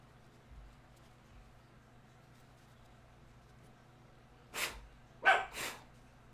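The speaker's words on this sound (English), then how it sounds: "Got my dog barking." A dog barks a few times in a busy outdoor area during an LST 2 engine teardown, with short, moderately loud barks near the end after a long quiet stretch with a low hum.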